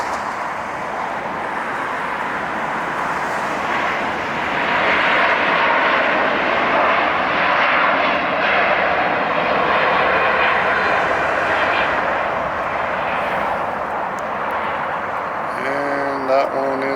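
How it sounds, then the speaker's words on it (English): Airbus A350 jet airliner at LAX, a loud, steady broadband engine roar that swells in the middle and holds close for most of the span, with a voice speaking briefly near the end. "Here's the A350."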